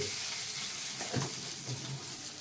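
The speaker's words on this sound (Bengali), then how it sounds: "এবার একটু জিরে ফোড়ন দিচ্ছি" Cumin seeds crackling and sizzling in hot oil as a tempering, a steady close hiss with a few small pops, fairly quiet.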